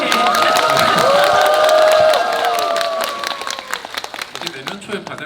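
An audience at a film Q&A screening claps and cheers loudly in a sustained burst that tapers into scattered clapping, with voices carrying over the crowd.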